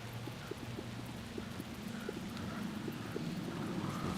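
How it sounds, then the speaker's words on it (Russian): Wind in the video game Alan Wake 2 blows as a steady, breathy rush that builds slightly, with faint rhythmic taps and low tonal hums underneath. "Что за ветер такой?"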